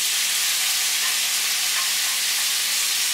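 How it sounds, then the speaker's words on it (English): Strips of poblano pepper frying in hot olive oil, giving a dense, steady, close-up hiss and crackle that keeps going without a break. "Once the oil is hot, we're going to add the rajitas de chiles."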